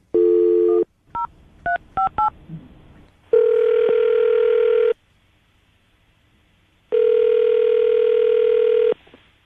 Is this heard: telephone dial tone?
yes